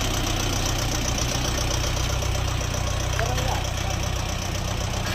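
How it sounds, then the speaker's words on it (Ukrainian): A Lovol 354 mini tractor engine runs steadily nearby with a constant, slightly knocking diesel rumble and vibration, loud and unbroken throughout with no talking. "Ловол 354 їде до своїх власників."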